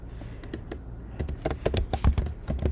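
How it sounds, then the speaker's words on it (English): Fingers typing on a computer keyboard, a quick irregular patter of close, crisp key clicks that starts sparse and grows denser and louder, heard alone without speech. "and then we're gonna type in here juice"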